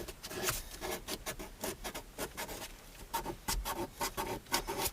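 Something scrapes and rubs against the plastic ductwork inside a car in short, irregular strokes. The sound is close and fairly quiet, and no one talks over it.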